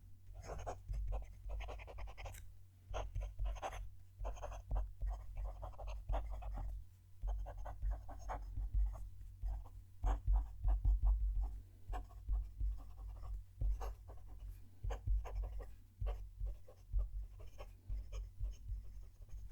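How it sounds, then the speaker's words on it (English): A Jinhao 9056 fountain pen scratches steadily across paper, recorded very close with the nib's continuous strokes and pauses forming a busy rhythmic scratching throughout. "I'll move the mic down to the page so you can hear them each writing."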